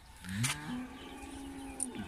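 A young goat bleats at a livestock market with one drawn-out, wavering call that lasts about two seconds, heard moderately close over faint background noise.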